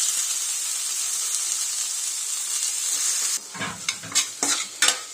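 Chopped tomatoes drop into a pan of frying ginger garlic paste for a rajma potato curry, a steady hiss of sizzling followed by scraping and stirring clatter of a spoon against the pot.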